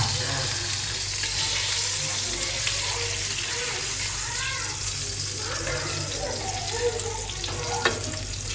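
Fish pieces fry in oil for meen kozhumbu, keeping up a steady close sizzle for the whole stretch, with faint stirring and brief clinks, and someone talking quietly at times.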